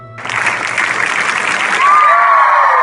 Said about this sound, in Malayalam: കാതടിപ്പിക്കുന്ന കയ്യടികൾ ഉയർന്നപ്പോഴാണ് പാട്ട് അവസാനിച്ചു എന്നത് അറിയുന്നത്